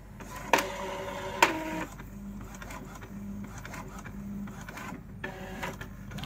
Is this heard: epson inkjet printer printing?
yes